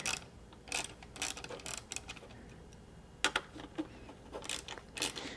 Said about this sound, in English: we're going to remove these two 5mm head screws